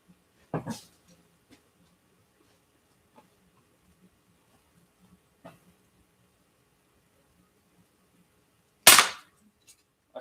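A BB gun fired at a target outdoors, two sharp snapping shots several seconds apart, with faint small ticks and knocks in between and otherwise near silence.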